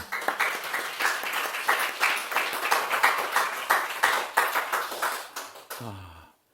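Clapping from a lecture audience at an adoption-awareness talk, a run of distinct, fairly sparse hand claps that rise and fall for several seconds before ending abruptly.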